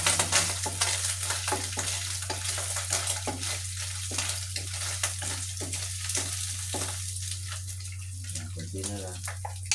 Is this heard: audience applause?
no